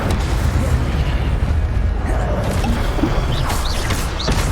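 Fire spell impacts during a spell duel in the video game Hogwarts Legacy, dense loud booming blasts and crackling bursts filling the whole stretch.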